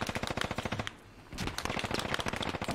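M249 SAW machine gun firing in the tactical shooter Squad, two rapid automatic bursts of loud close shots separated by a brief pause.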